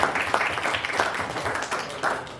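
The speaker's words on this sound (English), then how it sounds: "clap it up for Alan, guys, right?" Audience at a comedy show in the Elysian Theater, Los Angeles, claps for comedian Alan, a dense steady patter of hands sustained evenly through the moment with no voices on top.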